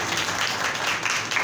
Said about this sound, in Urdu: زوردار تالیاں خدا کے لیے جائیں